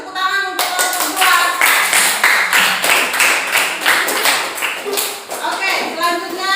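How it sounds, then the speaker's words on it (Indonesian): A classroom group claps in quick, uneven bursts that fill the room, with a few young voices mixed in. "Beri tepuk tangan untuk kelompok 2."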